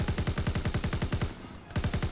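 A BAR automatic rifle in Call of Duty: WWII fires close and loud in a rapid, even burst of about fourteen rounds, breaks off for a brief pause, then resumes with a few more shots.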